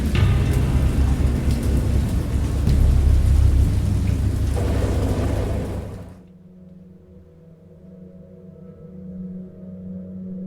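Thunderstorm in a scary video game: loud, steady heavy rain with rolling thunder rumbles for about six seconds, then it cuts off abruptly, leaving a faint low background hum.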